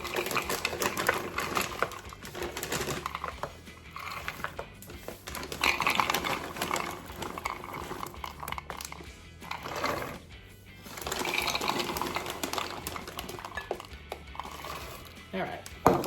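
Nuts being ground in a kitchen while baking banana nut loaves, a steady buzzing whir that rises and falls in bursts across the clip, fairly close and moderately loud.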